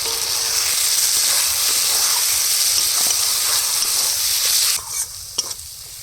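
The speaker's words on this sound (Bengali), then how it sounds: "দু চামচ লঙ্কা গুঁড়ো দিয়ে দেবো এবার সমস্ত মশলা খুব সুন্দর করে কষিয়ে নেব" Chili powder and spices stirred and fried in oil in a pan for a Bengali malai curry, giving a steady close sizzle with scraping stirs, easing near the end into a few sharp spatula knocks.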